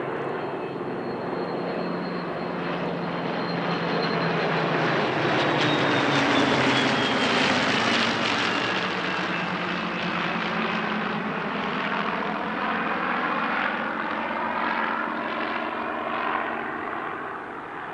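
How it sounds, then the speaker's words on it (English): Eight warbirds owned or operated by the Aircraft Restoration Company fly a formation tailchase at Duxford, their propeller engines droning loudly and continuously, swelling and fading as the planes sweep past. "an 8-ship formation and tailchase by Warbirds owned or operated by the Aircraft Restoration"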